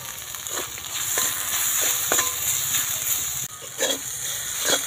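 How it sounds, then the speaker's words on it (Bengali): Salt, turmeric and chili powder fry in a pan with a close, steady sizzle broken by a few scraping stirring strokes, continuous over a few seconds without talk. "মশলাগুলো খুব ভালো করে কষে নিয়েছি।"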